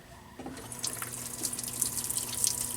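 Fuel gushing and splashing from a leak above the tank of a Nissan Xterra, a steady spray that starts abruptly and keeps pouring, fairly close.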